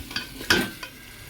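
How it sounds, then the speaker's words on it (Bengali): A spiced rice mixture with garam masala stir-fried in a pan, a short burst of scraping spatula strokes over a soft sizzle, one loud scrape in the middle, with no talk. "আবারও ভালো করে কষবো।"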